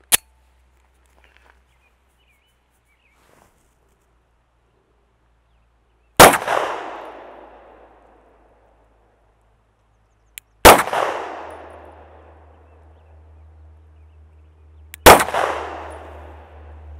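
Pistol fire with Heavy Shot Heavy Duty 100 grain ammunition: three loud, sharp shots spaced a few seconds apart, each with a ringing decay, after a long quiet stretch.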